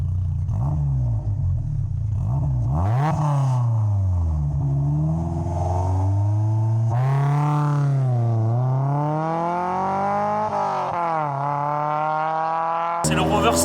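A Rover 120 small car engine with dynamic intake and a sport catalytic converter revving repeatedly, rising and falling in pitch with loud, close blips while people talk alongside.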